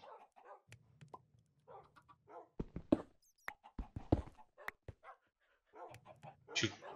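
Dogs in the survival video game Survival War 3 give a string of sharp barks and yips mixed with whimpers and panting, scattered irregularly across the stretch with brief silent gaps.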